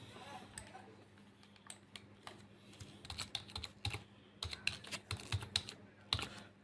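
Keystrokes on a PC or laptop keyboard, sparse at first then a quicker run of clicks in the second half, close and fairly quiet over a low steady hum.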